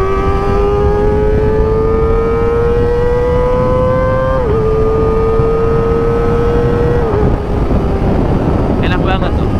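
Kawasaki ZX25R motorcycle engine revving steadily upward as it accelerates, a high whining inline tone that climbs, dips briefly at a gear change, then climbs again over heavy wind rush.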